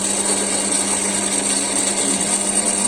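A power drill runs steadily while boring into a VR 150 paramotor crankshaft for balancing, a continuous close whine with no pauses.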